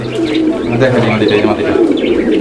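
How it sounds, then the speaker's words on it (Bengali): Fancy cream bar pigeons coo steadily and close by, a soft low burbling that runs throughout with faint chirps mixed in. "এখানে আরও একজোড়া কবুতরের কালেকশন রয়েছে"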